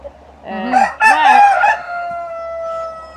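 A rooster crows nearby on a poultry farm with about sixty hens, a loud strained cock-a-doodle-doo that rises and trails off, with a faint tonal hum lingering afterward.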